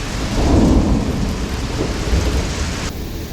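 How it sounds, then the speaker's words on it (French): Dense pattering of hail and rain hammers down loudly during a December thunderstorm in the Somme, France, with a low rumble of thunder underneath and no voices. "il grêle"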